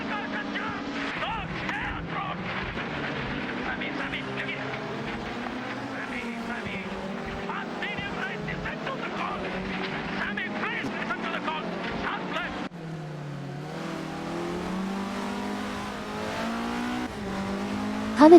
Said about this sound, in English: Glad to have you joining us again for some epic AI race car action.